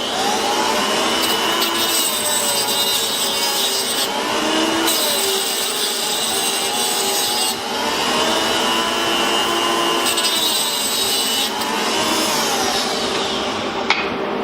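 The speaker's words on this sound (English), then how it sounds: "Probably one of the best things I ever invested in is this Eastwood tungsten grinder." An Eastwood tungsten grinder grinding a tungsten electrode gives a loud, steady high-pitched whine with a grinding hiss that rises and falls slightly in repeated passes, close and continuous with no talk.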